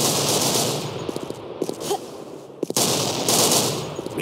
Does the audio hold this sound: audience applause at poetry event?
no